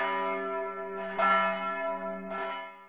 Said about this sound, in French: Voici les cloches de la basilique des Saint-Pierre et Paul de Saint-Hubert